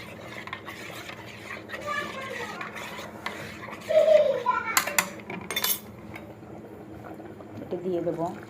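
Milk and water bubbling in a pot on the stove while payesh is cooked with cashews, heard as a soft, steady simmer beneath clinks of utensils and spoken voices, including a child's.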